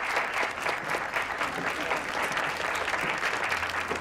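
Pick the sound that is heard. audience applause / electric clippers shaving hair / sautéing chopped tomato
audience applause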